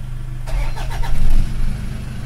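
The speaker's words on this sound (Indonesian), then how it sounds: "Coba tes starter." A Toyota 2KD common-rail diesel engine cranks and starts, a short loud starter whir rising into a firm idle, close up.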